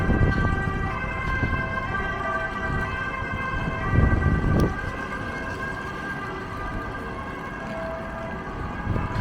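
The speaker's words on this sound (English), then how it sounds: "I hear some ambulance." An ambulance siren sounds continuously in a Stockholm city-centre street, steady and fairly close, over gusty wind and traffic rumble in snowy weather, with no one talking.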